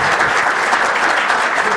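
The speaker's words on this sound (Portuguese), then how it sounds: "Vou pedir mais uma salva de palmas para ele." A crowd applauds a TV Globo director, loud, continuous clapping from many hands filling the whole stretch at close range.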